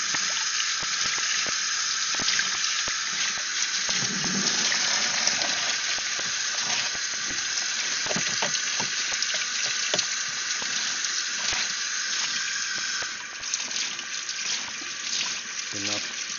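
Warm water runs steadily from a sink tap for the whole stretch, a constant hissing stream with small splashes and clatters as items are rinsed and cleaned underneath it.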